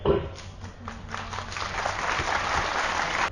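Audience applause at a health awareness camp in Guwahati, a broad steady wash of clapping that builds and holds for a few seconds, with a brief tone near the start and faint murmuring voices underneath.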